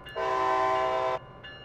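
A train in the Train Sim World game, on the Northeast Corridor around New York, sounds a loud sustained horn for about a second, followed by a softer, shorter horn blast, with no talk.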